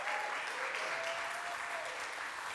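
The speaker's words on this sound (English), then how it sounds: "Can we get a round of applause for our providers?" An audience in City Hall claps for preschool providers, a dense, even wash of applause heard from a distance that carries steadily throughout.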